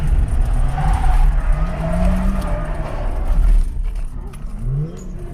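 An S13 Silvia with an SR20 engine drifting alongside other cars, engines revving and tires scrubbing loudly for several seconds, with a rising and falling motor note near the end and no clear talk.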